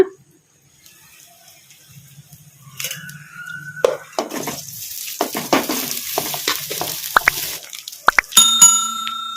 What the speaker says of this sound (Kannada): ಈ ಅನ್ನನ ಹಾಕ್ಕೊಂಡು ಒಗ್ಗರಣೆಗೆ ಕಲಸ್ಕೊಂಬಿಡೋಣ